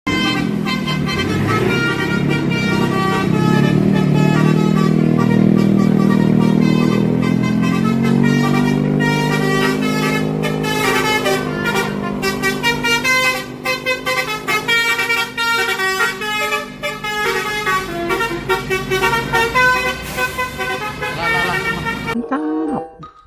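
MPN bus sounding its horn, starting with a long sustained low blare, then shifting into a loud, rapid melodic multi-tone horn tune played close for over twenty seconds before stopping.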